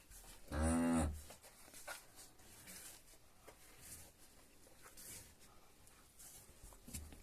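A single loud, close moo from one of a pair of newborn twin calves, followed by quiet barn rustling and faint movement.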